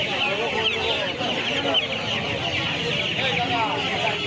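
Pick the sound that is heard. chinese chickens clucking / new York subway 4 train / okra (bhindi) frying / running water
chinese chickens clucking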